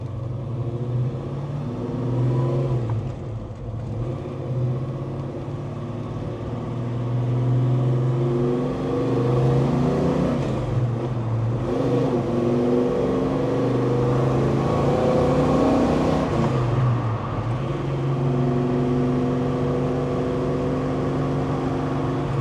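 A 1970 Chevelle SS restomod with a 502-cubic-inch V8 cruises on the road, heard from inside the car. A steady low engine rumble rises and falls slightly with throttle, alongside road noise over bumps.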